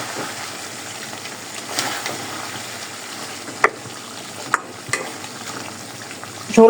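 Katla fish head sizzles and fries in oil with tomato and green chillies, a steady crackling hiss broken by a few sharp clinks of the spatula against the pan, no voices.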